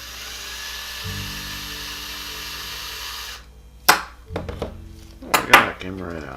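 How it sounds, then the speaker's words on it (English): A high-pitched drill whines steadily, drilling out a metal post on a Matchbox 65C Claas combine harvester model, then stops, followed by sharp metallic clinks and clatter of parts nearby. "Drill out that post right there."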